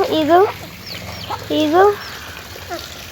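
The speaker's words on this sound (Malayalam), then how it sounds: "ഇത് ഇവിടെ വിരിഞ്ഞിറങ്ങിയ കോഴിമക്കളാണ്" Hens with newly hatched chicks cluck and trill in short, rising bursts close by, a few calls in quick succession over faint background noise.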